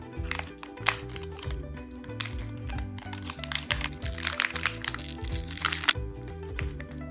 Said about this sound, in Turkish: Seramik hamurumu açıyorum ve yoğurmaya başlayacağım.